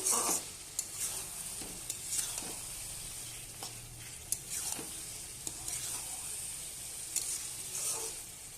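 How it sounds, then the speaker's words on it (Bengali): Curry sizzles and fries in oil in a pan while being stirred and sautéed until the oil separates, a steady hiss broken by repeated scraping and stirring strokes, close and moderately quiet. "এবার এইভাবেই কষাবো ভালোভাবে তেল ছাড়া পর্যন্ত"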